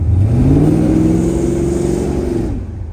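A 1972 Chevrolet Chevelle accelerates hard up close, its engine note climbing steadily through the gears for a few seconds before easing off, loud and alone with no talk.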